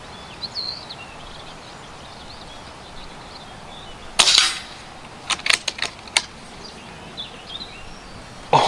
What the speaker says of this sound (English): Always nice when the first shot hits the cross.